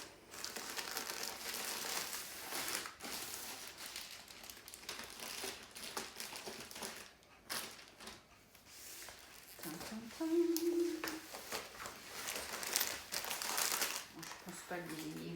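A Diamond Art Club diamond painting kit package is opened with steady crinkling and crumpling of plastic and paper close by, while someone talks throughout.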